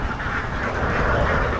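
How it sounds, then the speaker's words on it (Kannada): A flock of ducks in Vietnam quacks in a dense, continuous chatter, close and fairly loud, with no talking. "ಓ ನೋಡಿ ಇವೇ ಬಾತುಕೋಳಿ."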